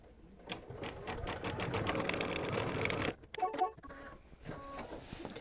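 An embroidery machine stitches an in-the-hoop applique piece for a mug rug, a steady fast run of needle strokes for about three seconds, then pausing and stuttering with a few short stitch bursts and clicks.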